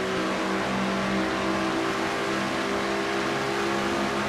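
Engine of a Ford stock car in a NASCAR-style racing game, a loud steady high drone at around 183 mph going into turn one, with no audible change across the stretch and no talking.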